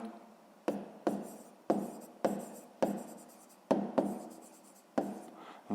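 A pen writes numbers on paper in a quiet room, close and faint, with about nine separate scratching strokes at an uneven pace.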